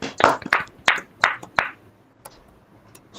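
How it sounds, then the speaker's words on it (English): Several people clap during an online English session, five or six distinct, fairly close claps in a loose rhythm, then a couple of faint stray ones before quiet. "So a big clap for us, Sakshi, please"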